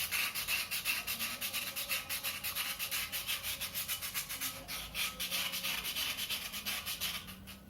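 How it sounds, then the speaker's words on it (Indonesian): Sandpaper rubbing steadily back and forth over the neck of a gas stove burner, a continuous rhythmic scraping with regular strokes, close and fairly loud, with no talking. "kita akan finishing dengan melakukan pengamplasan pada leher angsanya. Kita amplas sampai permukaannya benar-benar rata ya."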